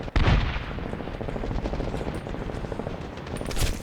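Gunfire in the video game Medal of Honor (2010): sustained automatic rifle bursts rattling continuously, fairly loud in a dense battle mix, with a heavier shot at the start and another near the end.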